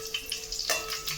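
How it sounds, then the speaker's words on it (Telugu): Green chillies fry in hot oil for a dal dish, giving a brief, moderately quiet crackling sizzle with a few small spattering bursts. "నూనె మరిగిన తర్వాత పచ్చిమిర్చి వేసుకోవాలి. ఇది బాగా ఫ్రై అవ్వాలి."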